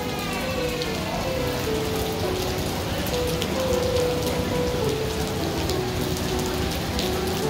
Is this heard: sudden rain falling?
yes